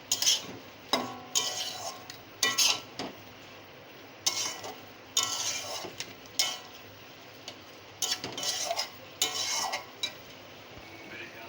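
Fried fish heads stirred into water spinach greens in a pan, a spatula scraping and clinking against the metal in repeated bursts with short pauses, close and fairly loud, no talking.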